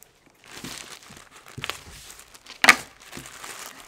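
Lost parcel package torn open by hand, a few bursts of crinkling plastic wrapping with a sharp loud rustle near the end, close up between quiet pauses.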